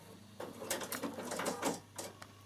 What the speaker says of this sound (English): I'm just going to do a stay stitch on this side as well in the same place